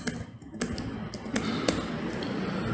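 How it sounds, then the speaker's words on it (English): Keys tapped on a computer keyboard while a partition-deletion command is entered, a few separate clicks standing out over a steady low hum of room noise. "So now let's actually type delete space partition."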